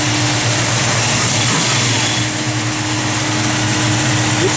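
A 1970 Plymouth Barracuda with a mild cam idles loudly up close, a steady throbbing rumble with a faint lope and a slight rise in revs partway through.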